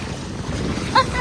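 Sea waves wash along the beach at Boqana in Nador, a steady broadband surf rush mixed with gusty wind buffeting the microphone, with a brief voice near the end.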